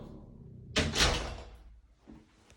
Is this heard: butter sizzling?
no